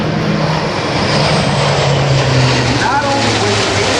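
A C-130J-30 Hercules flies a demonstration at the Rhode Island Air National Guard open house airshow, its loud, steady engine drone filling the whole stretch, with a brief whistling sweep near the end.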